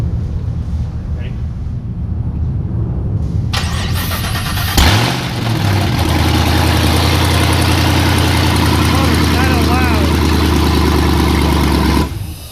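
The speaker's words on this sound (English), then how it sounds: "Motor's kind of loud." A GM performance engine in a workshop cranks and fires up about midway through, then runs loud and steady with a deep, constant rumble until the end.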